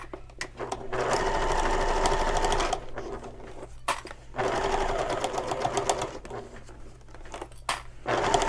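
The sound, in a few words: sewing machine sewing over a seam of a bag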